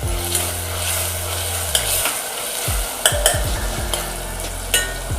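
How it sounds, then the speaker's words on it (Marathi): Tomato and onion frying in a pan on a medium gas flame while cooking a spicy mutton curry, giving a steady loud sizzle with occasional scrapes and knocks of a stirring spoon, with no voices. "आता हे चांगलं शिजून घ्यायचा आहे टॅमॅटो आणि कांदा"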